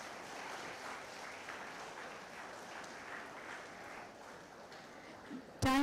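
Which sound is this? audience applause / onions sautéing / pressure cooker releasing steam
audience applause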